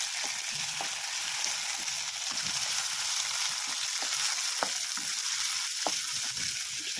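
Chopped tomato fries in a pan for a tomato gojju curry, with a steady bright sizzle and repeated soft stirring scrapes and taps close by.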